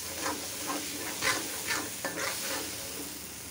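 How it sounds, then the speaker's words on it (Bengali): A spiced mixture is sautéed and stirred in a hot pan, with steady sizzling and frying hiss broken by several scraping stir strokes, close and continuous, with no talking. "এখন এটা কষাতে থাকবে।"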